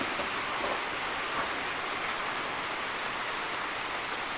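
Steady rain falls in the mountains, a dense, even hiss of drops on surfaces that stays constant from start to finish with no other sounds and no speech.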